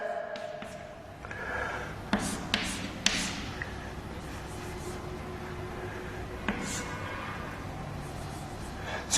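Marker squeaks and scratches on a board as chemistry notes are written, a few brief distinct strokes over a faint steady room hum.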